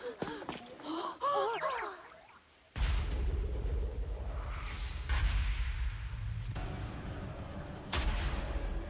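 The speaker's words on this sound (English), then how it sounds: "Hear another gunshot" A gunshot in the video game Rain Code cracks out suddenly after a quieter opening, leaving a loud rumbling tail, and a second blast hits near the end.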